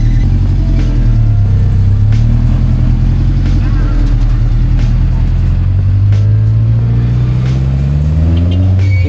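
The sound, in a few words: owner type Jeep driving away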